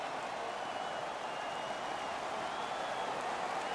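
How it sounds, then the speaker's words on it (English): Stadium crowd roar from an NHL 22 hockey simulation, a steady dense wash of cheering and applause held at an even level throughout with no break. "And the crowd back alive here inside the stadium."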